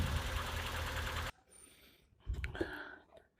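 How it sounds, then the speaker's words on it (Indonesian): A Honda Civic Genio or Estilo (1992–95) engine idles with a steady, loud hum, then cuts off abruptly, leaving quiet room tone with a few faint clicks and shuffles. "Sekarang kita matikan mesin dulu."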